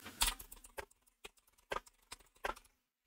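A search query is typed on a computer keyboard: sparse, quiet key clicks in small irregular bursts, separated by short silences.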